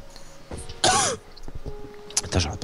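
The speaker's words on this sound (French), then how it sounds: "Si tu pourrais arrêter de tousser dans le micro, ça m'arrangerait." Someone coughs and clears their throat right into a close microphone, two short harsh bursts about a second apart. Faint background sounds fill the gaps.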